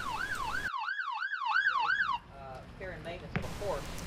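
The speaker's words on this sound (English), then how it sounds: "Because emergency lights and sirens are common in police work, we must desensitize the horses to them." A loud wailing police siren sweeps up and down in fast cycles during a mounted police horse demonstration in Key West, then cuts off, leaving quieter warbling tones and street noise.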